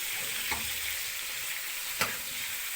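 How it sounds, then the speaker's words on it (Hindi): Precooked seekh kababs fry gently in a pan with a steady soft sizzle, broken by two brief stirring clicks. "सीख कबाब ये फ्राई करते हुए टूटते नहीं है"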